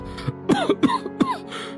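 Two people in an audio drama cough and clear their throats as poison gas fills a cabin, a burst of harsh, closely spaced coughs near and alone.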